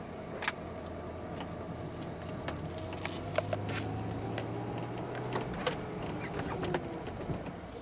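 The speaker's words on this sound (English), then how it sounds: "the window, when you place it all the way up, it can give you a little bit of drive noise" A 2004 Maserati Spyder convertible is driven with its window fully raised, giving scattered light rattling ticks over a low, steady road and engine hum, faint and with no talk.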